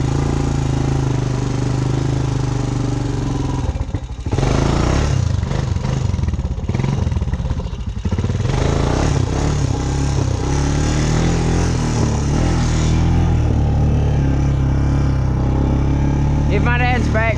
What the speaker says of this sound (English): That clay right there, the four-wheeler don't like it.